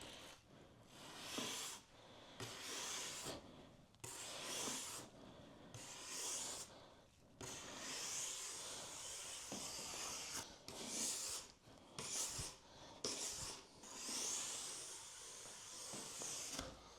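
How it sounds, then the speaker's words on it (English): Brass brush scrubbing a waxed ski base in long, hissing strokes with short pauses between them, close and steady, no voices. "And now the brushing. So I use this brass part of the brush."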